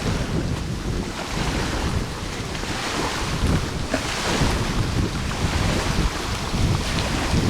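Steady rush of choppy water rolling onto a shore by the dunes, with continuous wind buffeting the microphone and no voices.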